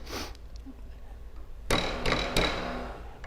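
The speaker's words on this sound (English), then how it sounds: "we're going to loosen that vise up a little bit" A vise on a 2 or 3 inch Model 441 valve assembly loosened by hand, with close metallic clanks and sharp knocks in the later part, after a brief noisy rustle at the start.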